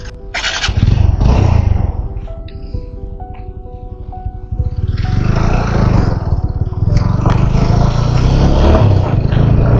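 A motorcycle on a rough mountain road on the way to Badrinath cranks and fires up, idles briefly, then revs loudly as it pulls away, the engine staying close and strong to the end.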